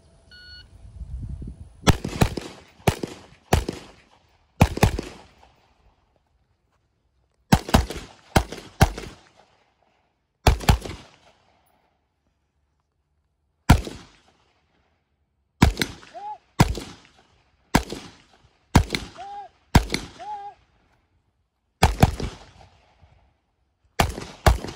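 Loud, close gunshots ring out in quick bursts of two to four, separated by short pauses, repeating across the whole stretch of a shooting competition stage with almost no talking.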